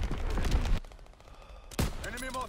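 Artillery fires in a video game: two loud, sharp blasts burst out about two seconds apart, each ringing briefly before fading, with a quieter gap between.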